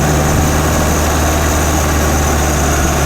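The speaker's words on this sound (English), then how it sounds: "Back down to second with a double clutch." The small engine of a 1955 MG TF 1500 sports car idles and hums steadily close by, a low rumbling drone with no gear changes or revving, continuous for a few seconds.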